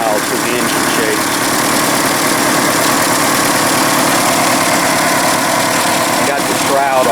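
A 1982 third-generation Chevrolet Camaro fitted with a fuel cell idles on its first start in 20 years, a loud, steady, rough rumble that runs close and unbroken throughout.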